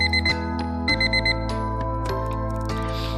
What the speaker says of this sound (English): Oh, my alarm! I have to get to work.